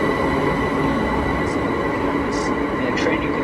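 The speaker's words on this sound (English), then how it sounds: "the train you can see leaving is the actually London Express, the high-speed rail" Heathrow Express high-speed train pulling out of an airport station, a steady broad rumble of wheels and rail noise with brief high squeals, heard up close and continuous throughout.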